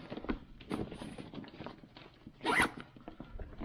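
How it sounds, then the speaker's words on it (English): A heavy-duty zipper is dragged along a Slumberjack Overland utility bin in a few short, scratchy runs, close and fairly quiet, ending in one louder pull, with no talking. "It's got a pretty heavy duty zipper up here"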